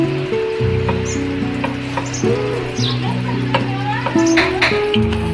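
Butter sizzles and gets stirred in a pan while cooking palak paneer, a steady frying hiss with scattered scraping spoon clicks beneath a melodic background tone.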